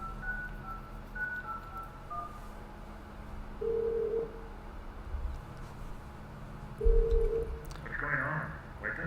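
Telephone in the video game Krampus is Home, sounding as short repeated electronic tones spread across the clip, faint under a low background.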